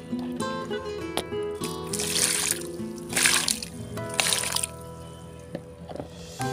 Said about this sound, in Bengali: তো আমি এবার একটু পানি দিয়ে দেব।